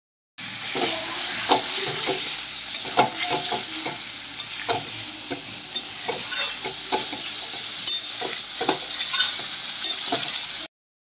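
Chicken pieces for dopiaza fry in a pan with a continuous close sizzle, broken by repeated scraping clicks as a spoon stirs them.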